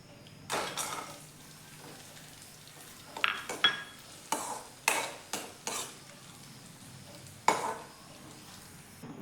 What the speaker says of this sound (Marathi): आता मनुके भाजून घेऊयात बघा.